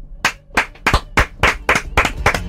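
Hands clap in a slow, even rhythm, about nine sharp, loud claps close by, spaced roughly a quarter second apart, ending a live talk-show segment with no one speaking.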